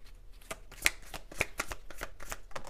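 Tarot cards being shuffled by hand, a close, quiet run of quick papery riffles and taps in an uneven rhythm.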